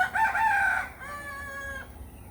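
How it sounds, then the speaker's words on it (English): A rooster crows once, close and clear, a two-part call that trails off, with quiet farmyard background and no speech. "Nice crow, Glimmer."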